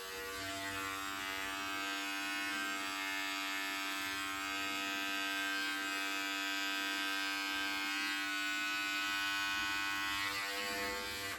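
Electric hair clippers fitted with a number 6 guard run in a continuous, even buzzing drone while fading hair on top, close to the mic with no talking.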